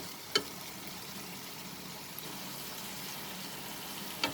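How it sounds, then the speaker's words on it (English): Chicken stir fry ingredients with soya sauce sauté in a pan, a steady broadband sizzle holding throughout with a couple of faint clicks of a utensil, and no voices. "We'll saute this."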